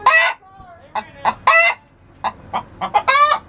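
Chickens in a hen house give a series of close, short clucks and squawks in irregular bursts, with quiet pauses between them.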